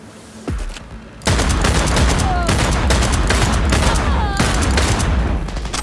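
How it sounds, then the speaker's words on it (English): Gunfire in Cyberpunk 2077 bursts out in dense, sustained volleys after a brief lead-in, with rapid overlapping shots and sharp impacts filling nearly the whole stretch, loud and close. "Heard shots."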